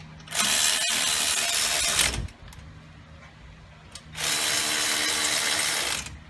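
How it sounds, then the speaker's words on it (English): A cordless impact ratchet tightens the brake caliper bolts on a 2006 Toyota Avalon during a brake rotor job, with two loud mechanical bursts of about two seconds each, separated by a pause. "I'll just tighten it up with the impact cordless ratchet"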